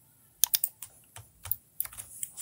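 Computer keyboard keys tapped in short irregular bursts, crisp and close, with brief pauses between clusters of clicks.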